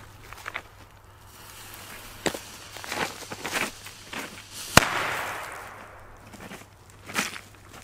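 Firecrackers go off outdoors in a run of sharp, scattered cracks, with one especially loud, close bang near the middle followed by a lingering hiss, then a few more pops.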